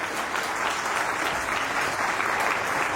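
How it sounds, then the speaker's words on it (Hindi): Dense, steady applause from an audience at a leadership development event, many hands clapping together loudly and evenly throughout with no voices on top. "सबसे पहले जेनजीवर्स के लिए एक बार जोरदार तालियां बजाइए"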